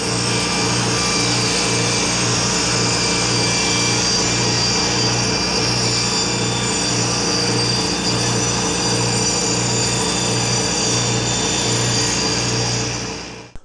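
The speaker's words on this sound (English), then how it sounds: "cut this groove down the center of your top bar" A table saw cuts a groove down the center of a wooden top bar for a Layens beehive frame, a loud continuous whine with a steady pulsing hum beneath, close and unbroken until it stops at the end.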